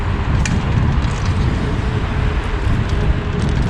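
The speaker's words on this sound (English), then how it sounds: "I can hear the cars up there on my right." Cars passing on a street beside a large park in Bucharest, a steady low roar of traffic heard from a short distance, continuous and fairly loud with no talk over it.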